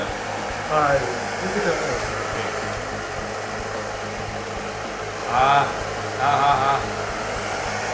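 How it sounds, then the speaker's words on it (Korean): A hair dryer blows steadily on hair while a long Ivy League cut is styled at a salon, a loud continuous whooshing roar throughout, with people talking over it at moments. "다음 드라이기를. 드라이기."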